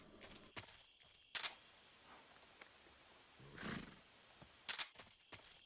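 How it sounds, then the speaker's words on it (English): Horse whinnies in the stealth action game Metal Gear Solid 3: Snake Eater, two short bright neighing bursts with a rougher snorting swell between them, moderately loud over a faint ambient background. "I hear horse noises."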